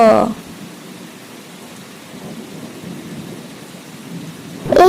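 A thunderstorm with heavy rain on a rainy monsoon day, a steady dense wash of rainfall heard close up, with louder rumbling bursts at the start and end.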